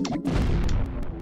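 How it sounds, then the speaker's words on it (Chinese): Cannon fire from the SFC (Super Famicom) game Ganbare Goemon: a booming burst of game explosions with crashing impacts, loud and continuous, rumbling without pause through the short moment. "呢个射大炮咧？"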